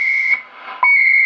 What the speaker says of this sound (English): Oh, another time signal.